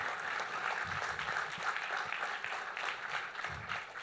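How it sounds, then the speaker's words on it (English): Audience applause for legendary Indian footballer Bhaichung Bhutia at the ET GCC Growth Summit 2025, a steady, dense round of clapping from a crowd that holds evenly for about four seconds. "A big round of applause for the legend here, please."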